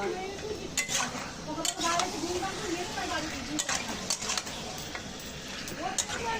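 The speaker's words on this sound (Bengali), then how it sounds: "এখন কষা হচ্ছে" A metal utensil scrapes and clatters in a pan as an onion mixture is stirred and sautéed, with a steady sizzle underneath and irregular scraping strokes; a voice speaks faintly at times.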